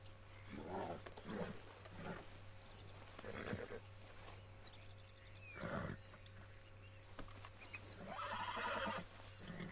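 A horse in Red Dead Redemption 2 neighs and snorts repeatedly in short, harsh bursts, with hooves shuffling and a constant low hum in the background.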